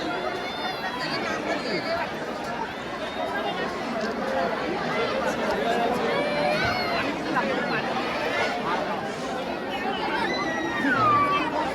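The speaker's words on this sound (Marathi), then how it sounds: "हे किती गर्दी आहे" A large, dense crowd of devotees murmurs and chatters at Jejuri temple in Maharashtra, a continuous hubbub of many overlapping voices with a high whistle-like sound near the end, steady and close all around.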